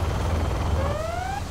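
A helicopter rotor drones low and steady in the strategy game Command & Conquer Generals, with a rising tonal whine sliding upward over the last half second. No talking is heard.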